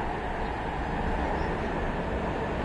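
Steady rumbling rail noise of a train ride inside a PS4 video game, a continuous broadband roll with no distinct clacks, even and fairly loud throughout.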